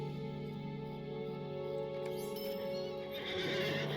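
A horse whinnies in the video game Lord of the Rings Online over a steady background hum, fairly quiet, with a faint clatter of hooves toward the end.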